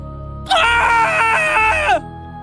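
A woman's scream in a horror audio story, one sustained high, harmonic cry of about a second and a half, loud and close with a wavering pitch that swoops down at the end, alone over a faint low drone.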